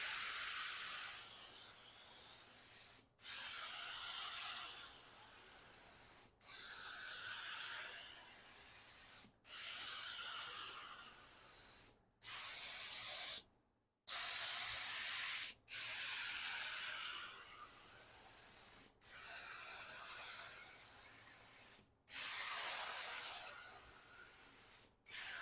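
A spray gun lays gold paint coats onto a 1966 Mustang in repeated hissing bursts of a few seconds each, separated by short silent pauses, close and steady.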